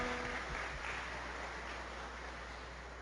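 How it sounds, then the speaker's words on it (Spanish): Congregation applauding during a Catholic Mass for the Ascension, a soft diffuse patter of clapping in a reverberant church, steady and fairly faint, with a low hum underneath and no voices. "así que damos el aplauso a ellos también"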